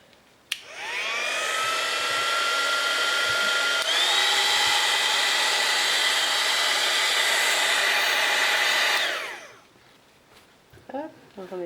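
A heat gun blows hot air over embossing powder for about nine seconds in one steady, loud whine, then cuts off and winds down. Brief speech follows.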